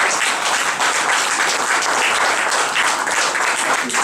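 An audience applauds in dense, sustained clapping that holds evenly loud throughout, at a 25th-anniversary international salon celebration, with no voices over it.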